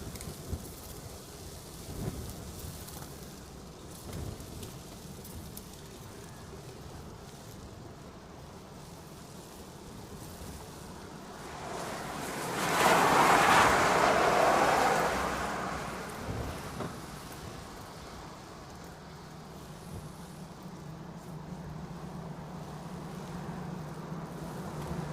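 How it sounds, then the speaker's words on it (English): Strong wind blowing outdoors at a Hawaii planespotting spot: a steady broadband rush that swells into a louder gust midway, then eases back to a constant roar. "The wind has really picked up."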